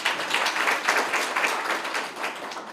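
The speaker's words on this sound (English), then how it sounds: "Can we just give him another round of applause?" A round of applause from an audience at a corporate presentation on corporate social responsibility, steady dense clapping from many hands throughout.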